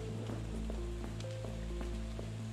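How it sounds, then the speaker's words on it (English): Steady rain from the video game FNAF Security Breach, a constant hiss with scattered drop ticks over a low ambient hum, with short electronic tones and soft game noises drifting in. "it's gotta stop raining for me to be able to do this"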